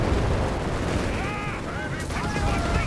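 Enemy gunfire in Company of Heroes 3 clatters steadily across a busy battlefield mix, with a voice commentating over the top and a few tonal whistles or horn-like sounds rising midway.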